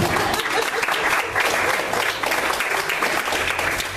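A church congregation applauds during a sermon, with dense, loud, sustained clapping that fills the room and carries no speech.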